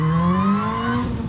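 A turbocharged four-cylinder Saturn with big cams holds a loud, steady high-revving engine note close by during a brief front-wheel-drive burnout on the e-brake, its pitch rising slightly.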